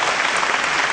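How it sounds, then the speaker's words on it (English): Brief burst of steady audience applause at a big televised Indian stage show, a dense wash of clapping for about a second. "Big round of applause."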